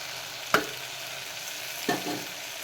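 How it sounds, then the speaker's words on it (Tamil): Ginger garlic paste frying with tomatoes is stirred in a pan, with two sharp scraping strokes over a soft, continuous sizzle and no voices. "இஞ்சி பூண்டு பேஸ்ட்டு பச்சை வாசனை போகிற வரைக்கும் கிளறிட்டுக்கலாம்"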